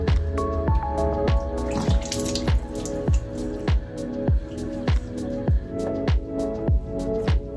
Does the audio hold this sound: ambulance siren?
no